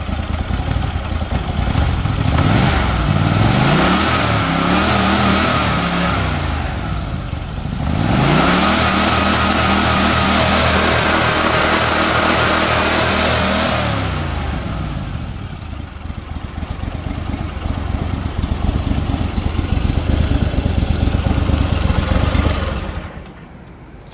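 A Mudbuddy mud motor outboard runs loud and close, a lopey idle rising into two long revs toward redline and dropping back between them, then settling to a steady rumble before cutting off near the end.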